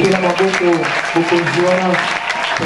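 A church congregation applauds under voices that carry over the clapping, the dense, steady clapping continuing throughout.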